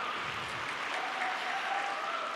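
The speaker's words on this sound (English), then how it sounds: "Applause." Arena audience at the junior world figure skating championships in Tallinn applauding, a loud, steady roar of massed clapping heard from a distance, unbroken and without talk.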